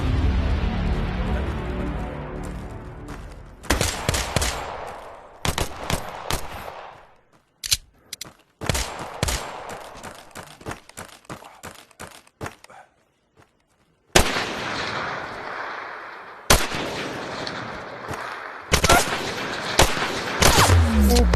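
Gunfire in the VR shooter Tactical Assault VR, with rapid bursts of automatic fire and single shots in clustered volleys, loud and close, separated by brief pauses.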